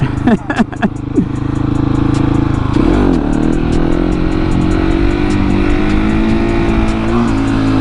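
Supermoto motorcycle engine revving hard during a wheelie on a farm road, loud and close, with a few sharp throttle blips and then a sustained high roaring pull.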